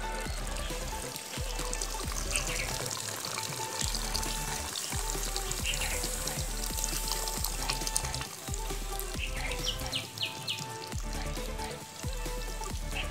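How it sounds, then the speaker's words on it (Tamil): Coconut milk pours into a pot of Sri Lankan style country chicken rasam, a faint, continuous liquid trickle and bubbling with small splashes, no talking. "இப்போ பாலை விடுவோம். தேங்காய் பால்"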